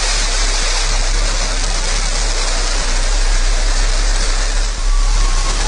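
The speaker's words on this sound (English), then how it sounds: "command engine start, 2, 1, ignition." New Shepard rocket engines igniting at liftoff, a loud, steady, broadband roar that fills the whole stretch without letting up, with no voices heard.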